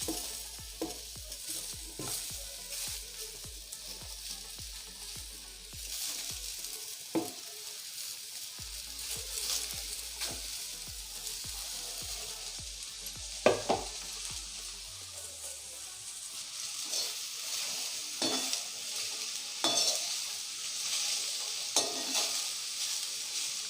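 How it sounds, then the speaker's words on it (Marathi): A halved onion roasting in a pan over low heat, giving a quiet continuous sizzle with scattered clicks and light pan knocks, fairly faint, no voices. "हा कांदा मी अर्धा करून भाजणार आहे"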